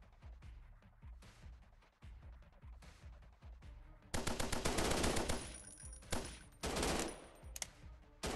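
Video game gunfire crackles in quick bursts, starting with faint spaced shots and then erupting into loud rapid automatic fire with dense volleys and short pauses.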